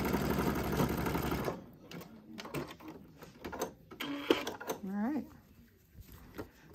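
A sewing machine runs steadily for about a second and a half while zigzag stitching elastic onto a cascading ruffle skirt, then stops, and someone talks over faint handling sounds.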